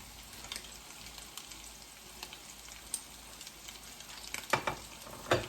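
Crab cakes frying in a pan, a steady crackling sizzle with scattered pops and a few sharper spatters near the end, no voices.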